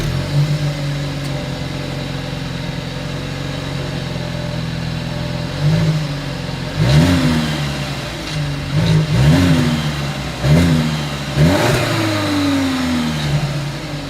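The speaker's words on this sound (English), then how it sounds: "As always, here is that exhaust clip." A 2022 Volkswagen Passat's exhaust idles steadily, then is blipped through a series of sharp, close revs that rise and fall in quick succession, with no talking over it.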